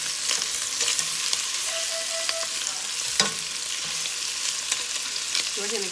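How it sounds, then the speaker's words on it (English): Meatballs fry in a pan with a steady, close, bright sizzle and a few soft clicks and stirring knocks, and no speech. "on the bottom to fry these up first"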